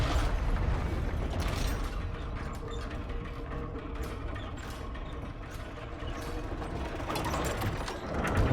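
Dam floodgate machinery in Dragon Age: Inquisition grinding open, a continuous mechanical rumble with creaks and ratcheting clicks layered over it, steady and moderately loud for several seconds.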